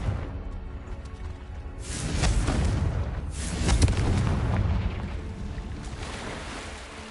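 Confringo fire-blast spell explosions in Hogwarts Legacy, a sustained loud rumble with two heavier blasts swelling in, the second peaking sharply before the roar slowly tails away.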